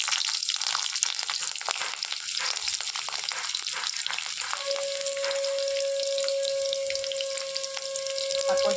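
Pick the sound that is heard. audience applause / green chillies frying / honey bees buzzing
green chillies frying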